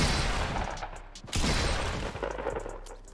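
Rapid SCAR assault rifle fire in Fortnite PC gameplay rattles as a dense, continuous fusillade of overlapping shots.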